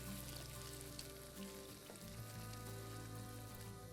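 Peas tumble into a pot of sizzling keema mutton, which gives a quiet, even frying hiss throughout with a brief dip and stir in the middle and no talking.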